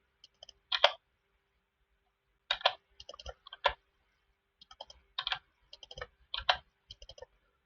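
Computer keyboard keys are clicked in short clusters while working in CST Studio modelling software, giving crisp, close plastic taps separated by brief silent pauses, with no talking.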